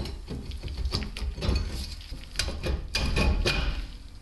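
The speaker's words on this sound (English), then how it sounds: "act like a slide hammer and pop the seal out for you" Repeated metallic knocks and thumps from a slide hammer popping out a wheel bearing seal on a Volkswagen A3-platform car, uneven in rhythm, close by with some rattling in between.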